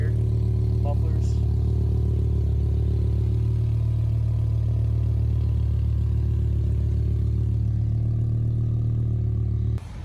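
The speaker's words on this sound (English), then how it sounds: "As you can hear, the exhaust has a nice little growl." The stock exhaust of a 2010 BMW M6 with a V10 engine growls in a deep, steady idle-like rumble for about ten seconds, loud and close, with a few faint clatters early on and a cut at the end.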